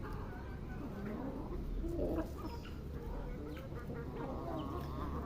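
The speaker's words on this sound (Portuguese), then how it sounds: "Os pintos tudo comendo, né?" Chicks and chickens peck and cluck softly while eating cut corn, a busy close texture of small clucks and scratching under a low, steady background, with occasional soft vocal sounds.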